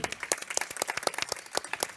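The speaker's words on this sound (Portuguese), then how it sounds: "Parabéns, vamos aplaudir," Audience applause at a public hearing, a steady, dense patter of many hands clapping for two seconds at moderate distance, with no voices over it.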